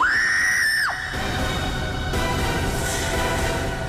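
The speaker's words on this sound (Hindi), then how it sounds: "सर के केबिन से जोर की चीख सुनाई दी" A loud, high scream rings out from an office cabin, holding one sustained shrill note for about a second before dropping away into a continuous noisy background.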